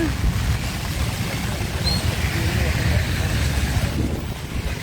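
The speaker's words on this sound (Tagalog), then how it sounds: "So mga kaibigan, malakas na po ang uh, buhos ng ulan." Heavy rain pours outdoors beside the Marikina River at the floodway in Barangay Manggahan, making a dense, steady roaring hiss that stays constant throughout.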